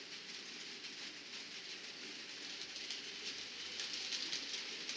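A freight train moving through a rail yard, a faint, steady rumble and rolling clatter of wagons heard from a distance, with no talk over it.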